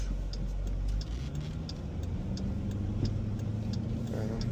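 Cabin sound of a Jeep SRT cruising in regular automatic mode through slow city traffic: a quiet, steady engine hum and road rumble with faint regular ticking, like a turn signal, throughout.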